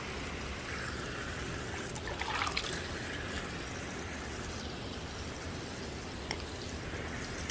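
Mineral spring water at a temple trickles and flows steadily, a close, continuous watery wash that fills the whole clip, with one brief knock partway through and no talking.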